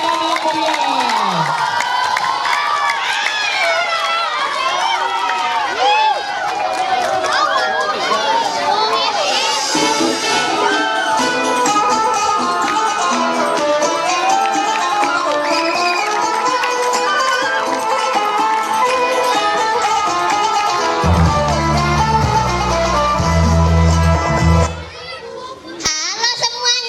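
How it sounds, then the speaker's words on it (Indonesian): A studio audience at a Ramadan talk show, many of them children, cheers, shouts and claps loudly and continuously, with lively voices filling the room throughout. "Beri tepuk tangan yang meriah."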